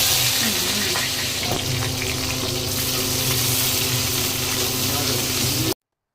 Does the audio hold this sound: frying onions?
yes